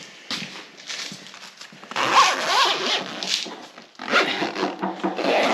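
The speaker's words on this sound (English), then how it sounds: "Now you're going to zip it right back close" A zipper is drawn around the cover of an ICECO JP50 Pro 12-volt portable fridge freezer. Several close, loud rasping zips come in separate bursts with brief pauses between them.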